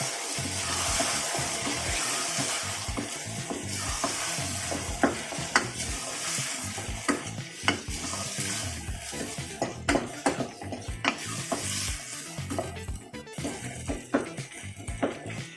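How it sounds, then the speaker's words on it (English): Chicken curry paste with onions and tomatoes is stirred in a pan, sizzling steadily while a spoon scrapes and knocks against the metal in irregular strokes, close and clear. "I'll give it a quick stir."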